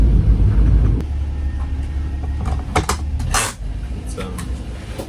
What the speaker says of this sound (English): Drive around in my own car.